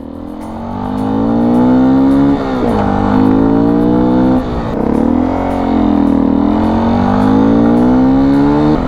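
A Beta 125rr dual-sport motorcycle with a 63-tooth rear sprocket is ridden in third gear, its engine loud and close, droning steadily with rising and falling revs and brief dips as the throttle eases.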